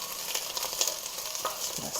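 Onions and garlic sauté in a pot of cauliflower soup base, giving a steady close sizzle with light stirring scrapes throughout, no voices.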